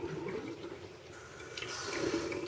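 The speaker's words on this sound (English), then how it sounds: "I'm gonna turn the water on really low" A tap running at low flow gives a soft, steady wash of water, faint and continuous, with a little trickling texture and no voices.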